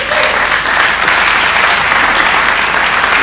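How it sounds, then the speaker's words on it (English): Loud, steady applause fills the room as a conference audience claps for a construction-industry presentation, a dense uninterrupted wash of hands throughout. "Once again, a round of applause for her for that mind-blowing, mind-altering presentation"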